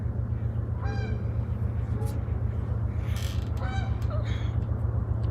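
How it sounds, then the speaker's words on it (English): Geese honk outdoors in a few loud, nasal calls spaced a couple of seconds apart, over a steady low mechanical hum. "You hear the geese?"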